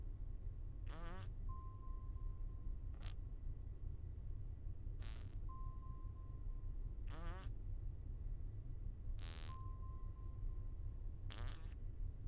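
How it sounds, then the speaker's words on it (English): Several short, buzzy fart noises in the video game Goose Goose Duck, spaced a couple of seconds apart over a steady background hum. "we all took a turn farting on it"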